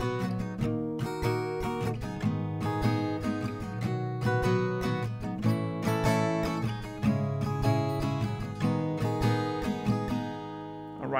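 An acoustic guitar strums a chord progression, one strumming round per chord, with close, steady rhythmic down-and-up strokes ringing out alone.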